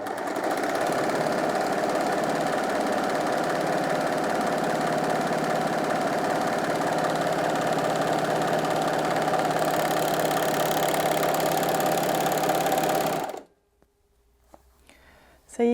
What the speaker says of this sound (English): let's go ahead and sew this rolled hem now